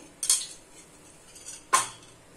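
A metal spoon clinks twice against a kadai while ghee is added for roasting besan, two sharp close clanks about a second and a half apart, with quiet in between.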